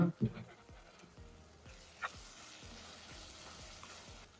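Onion and tomato sautéing in a pan, soft sizzling with repeated scraping stirs at a steady rhythm, close and fairly quiet.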